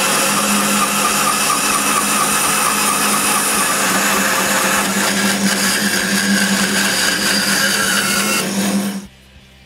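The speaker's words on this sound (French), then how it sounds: "puis je les coupe sur la ruban." Band saw cutting wooden support legs for a home theater stand, a steady loud whining buzz with sustained tonal hum that runs continuously before abruptly stopping near the end.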